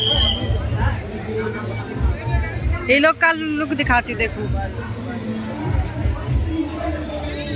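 Dense crowd babble at a busy water park near the ticket line, a steady hubbub of many voices close around, with nearby talk over it.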